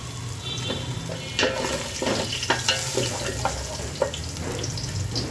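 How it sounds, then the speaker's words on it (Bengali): A cinnamon stick fries in a hot pan with a constant crackling sizzle, broken by several sharp clicks and scrapes of stirring. "একটি দারুচিনি এখন একটু জাস্ট এটাকে ভেজে নিচ্ছি"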